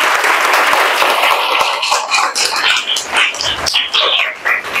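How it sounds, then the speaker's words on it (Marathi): Schoolchildren clapping together to welcome their teachers at a school, a dense, steady burst of applause from a close group that thins out unevenly toward the end. "तुमच्या शाळेच्या शिक्षकांचं एकदा टाळ्या वाजवून स्वागत"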